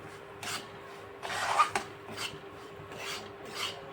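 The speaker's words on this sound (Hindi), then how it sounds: "इसमें हम सूजी भून लेते हैं।" Semolina roasting in ghee in a pan, stirred in a series of soft, gritty scraping strokes that come in irregular rhythm at close range, fairly quiet and without speech.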